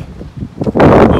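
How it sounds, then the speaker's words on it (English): Gusty wind at an RV park buffets the microphone, a low rumbling roar that rises and swells louder toward the end, with no voices. "Windy today."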